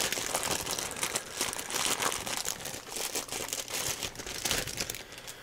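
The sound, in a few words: unwrapping packaging of new tablet replacement battery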